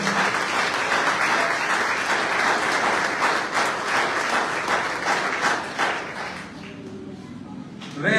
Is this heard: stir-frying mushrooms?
no